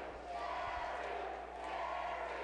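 Wrestling crowd at the Nick Gulas Sports Arena in Nashville giving Jerry Lawler a standing ovation, a steady, distant roar of cheering voices.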